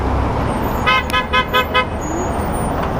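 Road traffic rumbles steadily while a car horn sounds a series of about five short honks in quick succession, fairly close, with no one speaking.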